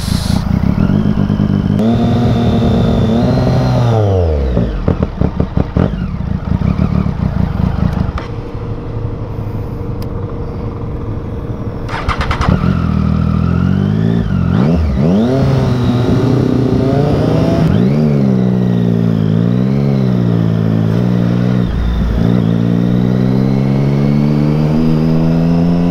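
A motorcycle with water in its fuel tank sputters, restarts and revs loudly up and down close by, its engine rising and falling in uneven surges with a brief drop-out midway.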